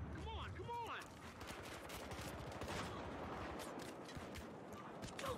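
Continuous gunfire in the multiplayer shooter Battlefield Hardline on PS4, rapid bursts of shots packed densely together throughout, with a voice speaking briefly near the start.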